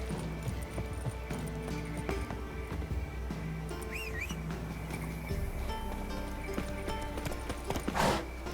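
Horse hooves clip-clop in a steady trot in The Witcher 3, with a neigh and a low game music bed underneath, all close and even in level.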